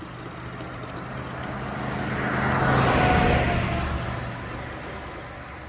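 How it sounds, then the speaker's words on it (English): A road vehicle passes near a roadside spring: a steady engine-and-tyre roar swells to a loud peak midway, then fades away. "I know there's a bunch of damn traffic"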